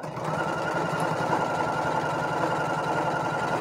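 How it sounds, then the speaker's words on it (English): Steady mechanical whirring and rapid stitching clatter from a Burnett B79 sewing machine, running continuously at close range with no pauses. "I am using my Burnett B79 sewing machine"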